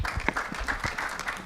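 Audience applause at a development conference, a modest scattering of claps close by, uneven and loosely rhythmic, with some louder individual hand strikes.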